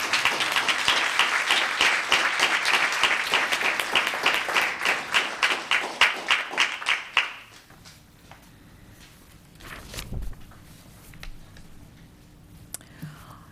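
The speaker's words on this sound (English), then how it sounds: "Let's give this special guy another round of applause." Audience at a town council meeting in Los Gatos gives a round of steady applause that fades after about seven seconds, leaving quiet room tone with a few thumps and faint shuffling.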